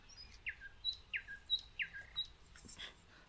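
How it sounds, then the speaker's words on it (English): Birds calling in a short series of sharp, high chirps and squawks, about half a dozen bright notes spaced roughly evenly, moderately close against a quiet background. "I like the birds."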